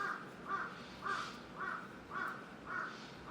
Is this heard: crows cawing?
yes